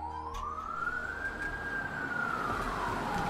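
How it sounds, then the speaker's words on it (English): An ambulance siren in a fan-made Halloween video game wails in one long rising-and-falling sweep, loud and steady over a dense rumbling background, with no talk over it. "Oh, the ambulance."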